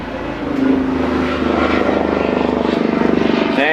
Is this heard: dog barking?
no